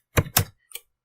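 Three quick keystrokes on a computer keyboard while entering a package name at an npm init prompt: two close, crisp clicks followed by a softer one, near and alone.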